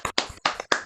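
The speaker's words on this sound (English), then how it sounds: "Can everyone please unmute and give a round of applause to Rhonda" Clapping from a few participants on a video call for Rhonda at an empowerment retreat, three or four short bursts of hand claps, close and moderately loud, with brief gaps between them.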